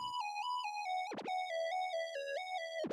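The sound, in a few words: simple square lead synth pattern with vintage chorus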